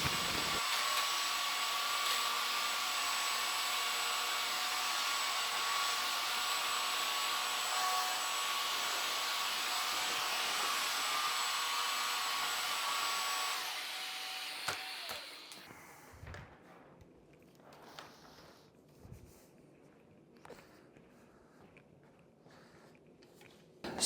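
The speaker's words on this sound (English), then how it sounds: "So after the first pass there, the Shark Hydrovac didn't really pick up the cereal as good" A Shark HydroVac wet-dry vacuum runs loud and steady as it picks up cereal, then shuts off partway through, leaving near-quiet with a few faint clicks and knocks.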